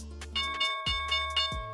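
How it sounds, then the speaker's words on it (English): Stock market opening bell ringing at the Nasdaq open, several sharp metallic dings in quick succession, each decaying briefly over a steady low tonal hum. "And here's the bell right now."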